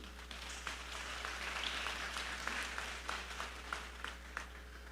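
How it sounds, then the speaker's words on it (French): A church assembly audience applauds a visiting national coordinator, a faint, fairly steady patter of clapping over a constant low electrical hum. "Je vous demande de l'applaudir."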